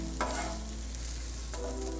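Seasoning and meat juices for yakisoba get stirred in a hot pan, two scraping strokes of the utensil over a constant low sizzle, close and fairly quiet, with no talking.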